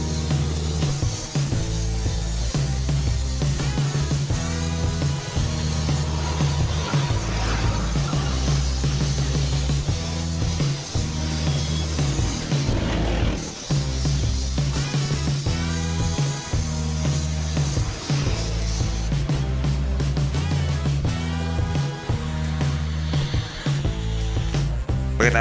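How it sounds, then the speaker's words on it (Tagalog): Spray gun applying metallic pine silver car paint, a steady continuous hiss holding loud and unbroken from start to finish, close to the mic. "Pagkatapos natin mag-spray ng metallic pine silver mga bossing"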